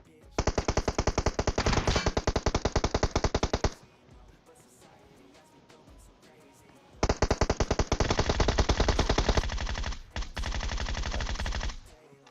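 Rapid automatic gunfire in the video game PUBG Mobile, in long sustained bursts, loud and close, broken by a few seconds of quieter rumble before firing resumes.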